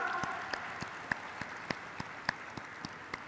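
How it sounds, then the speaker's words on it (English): Audience applause at a stock exchange listing ceremony on India's NSE, a steady wash of clapping with a few sharper claps standing out, moderately distant and continuous. "Everybody, thunderous round of applause, come on."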